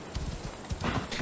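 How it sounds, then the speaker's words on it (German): Horse hooves in Assassin's Creed Odyssey clip-clop in an uneven walking rhythm, drawing closer and growing louder toward the end of a short passage. "Oh, das Pferd kommt schon zu mir."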